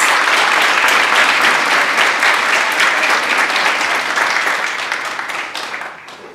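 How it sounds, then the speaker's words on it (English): At a school district board meeting, an audience gives sustained applause with scattered cheers. The clapping stays dense and loud, then fades away over the last second. "Cheer it again for Levi and the Dolphins."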